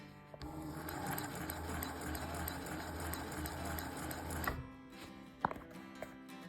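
An Alibaba MC-202 fur sewing machine driven by a servo motor stitches in a fast, steady mechanical whir with fine rattle for several seconds, then stops, leaving a faint hum and a couple of clicks.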